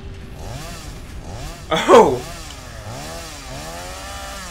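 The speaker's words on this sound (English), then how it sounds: "Seems like Wavy is having some fun with the chainsaw" A chainsaw revving in the video game Satisfactory, a brief raspy burst rising over talk in a game session, with a voice exclaiming at the peak.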